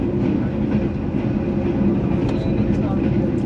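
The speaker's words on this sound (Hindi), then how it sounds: "ट्रेन अभी हमारी गुज़र रही है जी तकरीबन काना स्टेशन जो है" The Pak Business Express train runs past Kana Kacha station with a loud, continuous low rumble and rhythmic wheel clatter heard from on board, under a voice talking.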